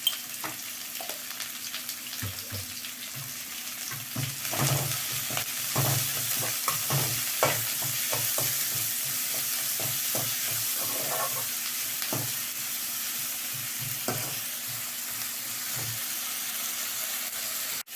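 Onions frying with salt in a pan, stirred continuously, with a steady sizzle and a rapid run of close scraping spoon strokes that keeps going for a long stretch.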